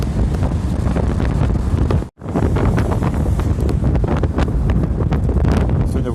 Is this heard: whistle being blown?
no